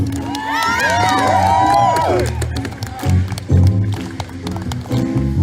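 A Black Lives Matter rally crowd in Lansing, Michigan cheers and claps loudly up close, with shouting voices over the opening and bursts of clapping and whoops continuing throughout.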